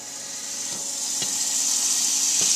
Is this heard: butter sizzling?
yes